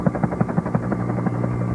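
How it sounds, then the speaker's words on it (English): A cartoon helicopter from Thomas & Friends whirs away over treetops with a rapid, regular thudding of rotor blades over a steady engine drone, fairly loud and close. "And Harold whirred away over the treetops"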